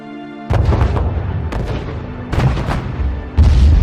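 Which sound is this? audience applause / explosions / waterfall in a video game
explosions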